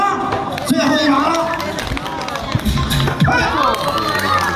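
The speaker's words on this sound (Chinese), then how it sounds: "来掌声，最后一场" An audience at a comedy show cheers and shouts loudly and without a break, with a dense wash of excited voices and a few clapping bursts close by.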